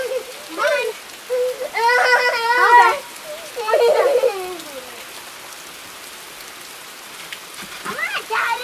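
Rain falls outdoors as a steady, soft hiss throughout, beneath several loud, high-pitched whimpering, crying vocal sounds nearby.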